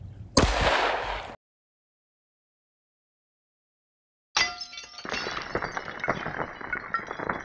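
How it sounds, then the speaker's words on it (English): A gunshot strikes a medium-thickness homemade bulletproof glass panel on its glass side: a sharp loud burst with shattering, then silence, then a longer stretch of crackling, clinking fragments. "So we're going to shoot the glass side."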